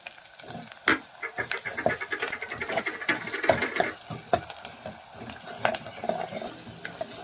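Onions browning in a pan with curry leaves and garlic-ginger paste added, giving a steady sizzle with stirring scrapes and occasional utensil knocks throughout, close and moderately loud.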